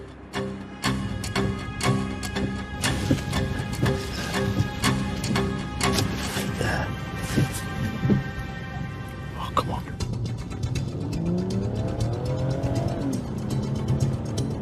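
A Seat car races ahead of pursuing police cars, with loud, continuous engine roar and bursts of tyre squeal close by, while a voice talks over the chase.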